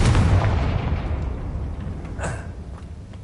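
A Confringo spell in Hogwarts Legacy goes off as a deep, rumbling blast that decays over a few seconds, with a brief crackling burst near the end.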